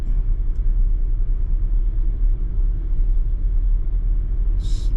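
A vehicle creeps slowly uphill on snow in Georgia, its engine a loud, low, steady rumble heard from inside the cab with no clear revving.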